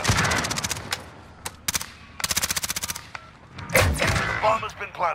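Rapid automatic gunfire in the military shooter Modern Warfare, several loud close bursts of rattling shots separated by short pauses, followed by heavier blasts and thuds toward the end.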